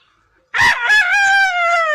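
After a moment of silence a rooster bursts into a loud, close crow, starting with a harsh rasp and settling into a long, held, wavering call.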